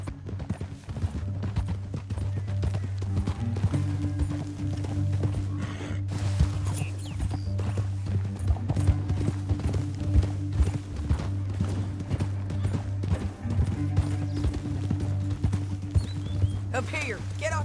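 Horses' hooves clip-clop steadily through a canyon in a Western scene, running under a loud, low sustained music score, with talk heard over the top.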